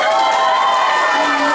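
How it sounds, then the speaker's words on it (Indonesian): Steady crowd applause fills a school opening ceremony for a scientific paper event, a dense continuous clapping close by with a voice speaking over it. "Kita berikan tepuk tangan yang meriah untuk Lutgardis D. Elbensi dan juga Natalia Duapewan"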